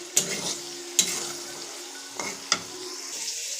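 Onions with a pinch of salt sizzle in a pan for fried rice while a spoon stirs them, scraping the pan in four sharp strokes over a steady frying hiss, close and alone.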